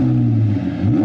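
A Ferrari 812 V12 revs near and loud in a quiet street, a sustained throaty roar that dips briefly and climbs again.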